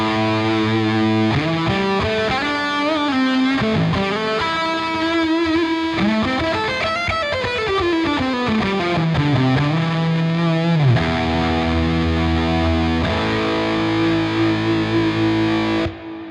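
Distorted synth-guitar preset from the Neural DSP Archetype Rabea plugin, playing sustained gliding and bending lines with a thick chorused tone, loud and continuous throughout before cutting off at the end.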